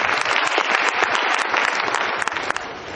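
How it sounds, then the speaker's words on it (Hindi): An audience breaks into loud, close, continuous applause, a thick wash of many hands clapping that holds steady throughout with no talk over it. "आपकी जोरदार तालियां।"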